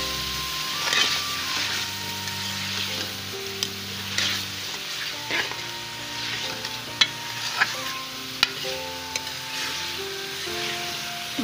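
Chicken liver and pota frying with peas in a pan, a steady sizzle with scraping stirs and sharp utensil clicks against the pan, under soft background music.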